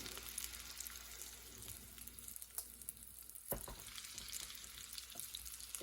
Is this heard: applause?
no